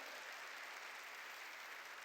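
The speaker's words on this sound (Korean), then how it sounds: "박수로 하나님께 영광 돌리고" A congregation claps during a Korean church worship service, a continuous, even patter of applause heard faintly and at a distance.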